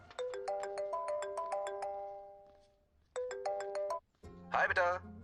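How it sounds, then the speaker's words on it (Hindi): Electronic phone ringtone plays a bright repeating melodic pattern in two bursts with a brief pause between, followed by a short burst of louder sound at the end. "राजू भैया, आपको किसी का फोन आ रहा है।"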